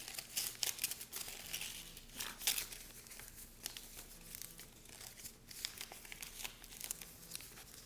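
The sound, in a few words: folding a paper hexa-hexa-flexagon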